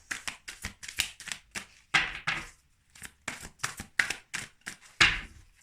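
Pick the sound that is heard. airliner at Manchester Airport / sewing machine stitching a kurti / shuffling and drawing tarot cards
shuffling and drawing tarot cards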